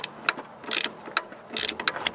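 A ratchet loosens the AC belt tensioner bolt on a 2002 Mitsubishi Eclipse RS 2.4L, giving several quick close clicking bursts with short gaps between strokes.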